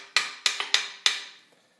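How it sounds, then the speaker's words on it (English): Five sharp hammer blows strike around a shaft during the rebuild of an Aries, close and loud, each with a brief ringing decay and a quiet pause between, no voices. "I just bang around it with a hammer here, like that"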